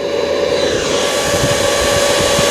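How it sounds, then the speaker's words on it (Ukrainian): Cooler fan running on a homemade smokehouse for cold-smoking fish, a loud, steady close whir with a constant hum and no talk. "кулір працює"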